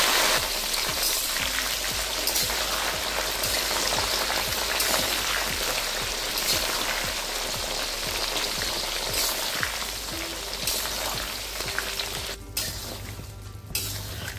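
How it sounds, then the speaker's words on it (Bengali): Garlic and black cumin seeds frying in hot oil in a pan for a garlic pickle, a steady dense sizzle and crackle heard up close throughout, alone without talk, briefly changing near the end. "কালো জিরেটা দেওয়ার পরে 1 মিনিট ভেজে নিয়েছি। এবার দিয়ে দিচ্ছি রসুনটা।"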